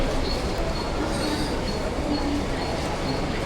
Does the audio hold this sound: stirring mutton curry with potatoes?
no